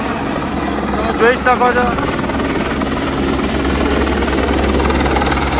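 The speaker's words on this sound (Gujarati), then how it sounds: "હેલિકોપ્ટર આવી ગયું છે પિકઅપ કરવા માટે" A helicopter arriving for a pickup at the Kedarnath pilgrimage site in the Himalayas, heard as a steady rotor and engine drone that fills the whole clip while someone speaks over it.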